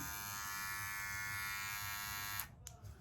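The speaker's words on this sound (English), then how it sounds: "Quiet little blade, little clipper, trimmer." A small, quiet cordless hair clipper trimmer with USB-C charging runs with a steady, close, high-pitched electric buzz, then switches off near the end, leaving faint handling noises.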